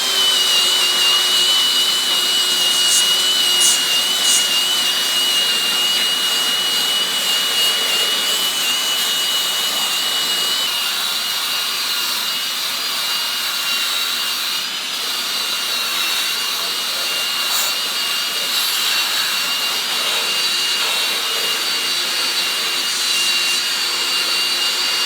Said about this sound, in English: So I use a little type of sanding mop on a high-speed drill setting.